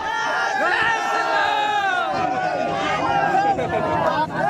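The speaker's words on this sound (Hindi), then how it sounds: "रनवे पर जय श्री राम के नारे लग रहे थे" A dense crowd of devotees on the runway at Patna airport chants and shouts together, a loud, continuous wall of many overlapping voices.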